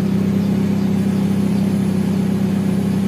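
A Nissan Grand Livina engine idles steadily during an idle learning procedure after a tune-up, giving a constant low, loud hum with an even, unchanging drone throughout and no voices.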